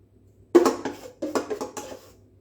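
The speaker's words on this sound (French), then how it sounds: "À la fin, vous pouvez racler avec la spatule pour ne pas perdre trop de pâte." A spatula scrapes marbled chocolate-pistachio cake batter from a bowl in several short close strokes, scratchy bursts with brief gaps between them.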